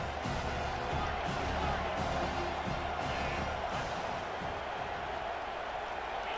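In a college football video game, the stadium crowd roars for a Tulane Green Wave road game in the SEC. A thick, constant wall of crowd noise fills the whole stretch at even loudness.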